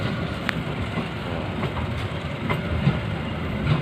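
A train pulling out of Walantaka railway station gives a steady, loud rolling rumble with rhythmic clickety-clack of wheels over rail joints and faint metallic ticks.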